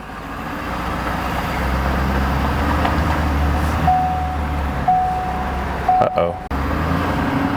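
A 2021 Ford F250 Super Duty truck, previously wrecked, drives along with a steady low engine and road rumble filling the cabin, a few thin tonal chimes and a brief voice breaking in near the end.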